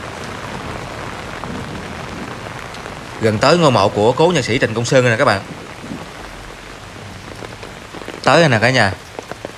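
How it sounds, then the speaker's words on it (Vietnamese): Heavy rain pours steadily across a cemetery near the grave of a musician, a dense close hiss throughout, while someone speaks over it in two bursts; no clear thunder stands out. "Trời càng mưa mỗi lúc càng lớn các bạn, sấm chớp nữa."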